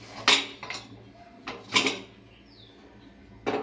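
A cooled pressure cooker with its lid being twisted and lifted off after cooking soybean pulao, giving a few sharp metallic clunks and scrapes spaced over a few seconds, fairly close and with no talk.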